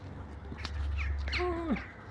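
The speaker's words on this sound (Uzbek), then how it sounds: "O qarg'alar qarang." A single crow caws once, fairly clear but not loud, over a low rumbling outdoor background.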